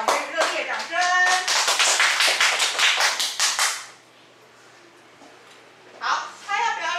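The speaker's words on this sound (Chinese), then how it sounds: "那我们热烈掌声" An audience at a beginner-level music concert claps to welcome a performer, a dense burst of applause lasting about four seconds before it fades to near silence, then a brief voiced or tonal sound.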